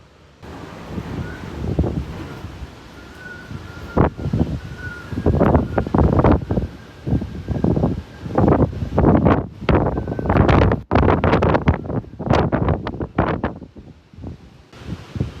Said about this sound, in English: The wind outside suddenly becomes much louder.